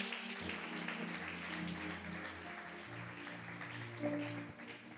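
A church congregation applauds Jesus, sustained clapping mixed with cheering voices and a held musical tone underneath, fairly loud and continuous throughout.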